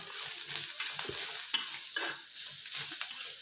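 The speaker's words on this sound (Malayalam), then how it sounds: "നല്ല ചുവന്ന കളറാക്കുന്നവരെ വറുത്തെടുക്കണം കേട്ടോ നല്ല ചോപ്പ് കളർ വരെ വറുത്തെടുക്കണം" Grated coconut and curry leaves dry-roasting in a pan for a chammanthi, with a steady dry sizzle broken by repeated scraping strokes of a spoon stirring close up and fairly loud.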